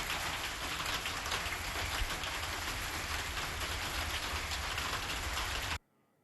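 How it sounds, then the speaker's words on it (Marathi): Stormy, wind-driven rain in Sillod taluka of Chhatrapati Sambhajinagar, where hail was reported, makes a steady, dense roar that stays close and loud before cutting off abruptly near the end; no one speaks. "वादळी वारा पाऊस जो आहे तो पाहायला मिळतो"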